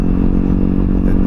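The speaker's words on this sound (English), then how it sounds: "you can kind of hear the engine in the back, which I'm glad there's a little bit of engine noise" Car engine running, heard from inside the cabin as a loud, steady low drone with a rumbling hum and slight rattle, continuous throughout the short moment.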